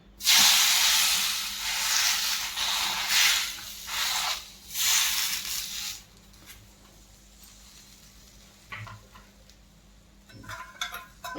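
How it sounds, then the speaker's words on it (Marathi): Dhapate flatbread sizzling on a hot griddle, a loud burst of hissing steam in uneven surges for the first half that fades to faint crackles and a few utensil clinks. "आता पहा हेही मी तव्यावर टाकून घेत आहे"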